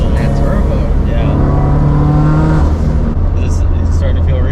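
A loud turbocharged Toyota FR-S pulls hard from inside the cabin, its engine roaring steadily and shifting pitch as it accelerates, with voices speaking over the noise.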